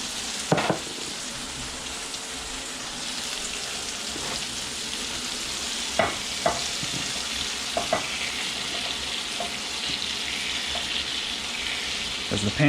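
Scallops sizzle loudly in a hot pan, a bright continuous frying hiss broken by clanks and scrapes as they are stirred and tossed, close up with barely any talk.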